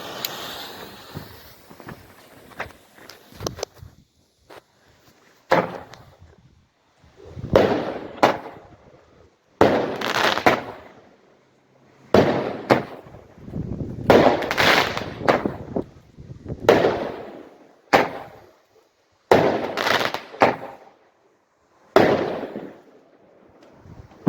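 A luxury palm firework fires in a series of loud explosive bursts, each booming crack trailing into crackle, repeating at irregular intervals of a second or two over the whole stretch with short quiet gaps between.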